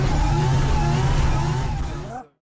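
Volvo 740 engine revving hard while drifting at Silverstone during the Brooklands Slide competition, a loud, sustained engine note with shifting pitch that cuts off abruptly near the end.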